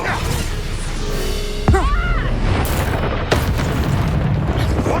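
A Bombarda spell goes off in Hogwarts Legacy with a sudden booming blast, followed by a second crash a moment later, all within busy game sound and a short vocal cry.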